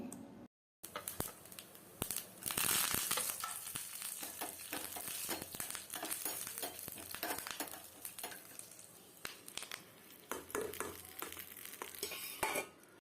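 Hot oil crackles and sizzles up close as tempering spices and curry leaves hit it for coconut chutney, with stirring and spoon scrapes throughout, fairly quiet and steady.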